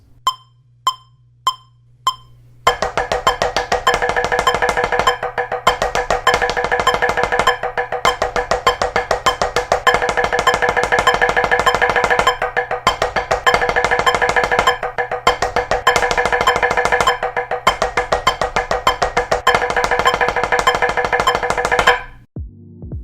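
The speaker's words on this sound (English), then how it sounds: "The completed split single should now sound like this." A few sharp drum hits, then a fast, steady split-single double-bass drum pattern with cymbals played continuously for about twenty seconds before stopping.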